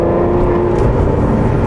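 Aston Martin Vanquish Carbon Edition with a V12 engine driving, giving a steady, loud low engine drone with road rumble that stays even throughout, no voices over it.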